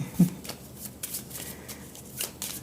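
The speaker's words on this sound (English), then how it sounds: "shuffle those and put them face down." Cards from the Star Wars Clone Wars board game being riffle-shuffled close by, several quick papery bursts of flutter over about three seconds, with no one talking.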